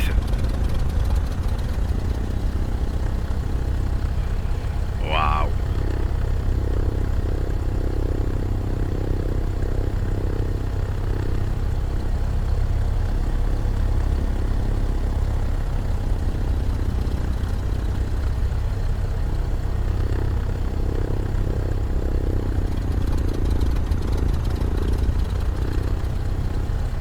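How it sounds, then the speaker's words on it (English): A Cessna 152 engine in a flight simulator idles continuously at a low, even drone, with one brief exclamation from a voice partway through. "Oh, listen to that engine."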